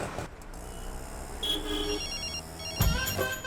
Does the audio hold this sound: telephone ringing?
yes